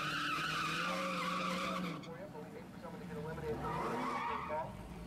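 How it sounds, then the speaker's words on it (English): Dodge Hellcat smoking its tires, a harsh tire squeal and skidding roar under an engine note that drops away midway, with people talking over it. "That's smoking the Hellcat here, dude."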